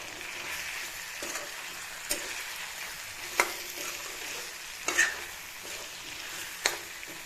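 Chicken stirred as it fries in a pan over low flame, with a faint steady sizzle broken by a few sharp spatula scrapes and knocks spaced a second or two apart.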